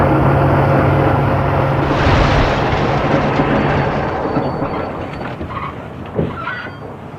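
Loud, continuous rumbling roar of heavy tank-carrying rail wagons rolling along the tracks without a locomotive, gradually fading with a faint clank near the end.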